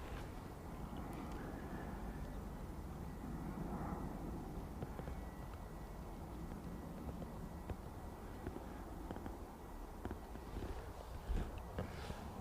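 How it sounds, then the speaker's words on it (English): A Ryanair 737 MAX arriving from Madrid rumbles low and steadily on its final approach to land at Manchester Airport, a faint, distant roar that holds even throughout, with no talk. "Ryanair Max coming in from Madrid, just about to touch down."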